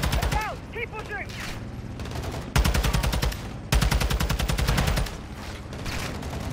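Rapid automatic gunfire in a video game, several loud, close bursts of rattling shots with short pauses between them, alongside game effects and shouting voices.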